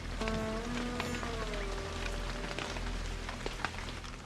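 Rain falls steadily on a surface nearby, a constant patter with a low hum underneath and a brief tonal whine early on.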